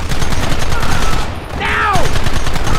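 Rapid, dense gunfire crackles throughout a Red Dead Redemption shootout, with many overlapping shots close by and a brief whistling ricochet partway through.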